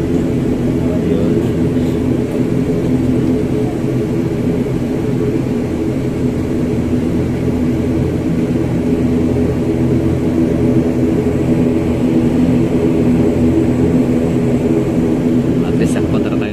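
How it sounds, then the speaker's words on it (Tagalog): Steady loud droning rumble inside the cabin of a propeller airliner during takeoff on a flight from Caticlan to Mactan Cebu, a continuous engine roar heard up close with no breaks. "Cabin crew, get ready and prepare for our takeoff."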